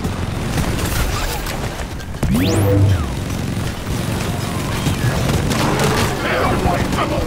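A detonator enemy explodes in the Deep Rock Galactic video game, one deep booming blast followed by a falling rumble, set amid ongoing gunfire, gameplay noise and shouting players.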